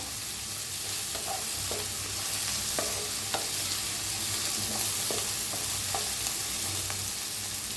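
Raw mango pieces frying in hot oil in a pan, giving a steady close sizzle with occasional scrapes and clinks of stirring, and no talking.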